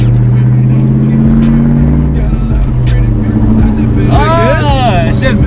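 A Mustang with a freshly repaired clutch drives along with a loud, steady engine drone that rises and shifts through the gears, while people talk over it inside the car.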